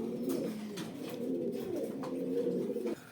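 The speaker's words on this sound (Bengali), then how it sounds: "আর একটা ড্যানিশ কবুতর আছে" Danish pigeons coo in a steady, low, rolling murmur, several birds close by and overlapping without pause, with no talk over them.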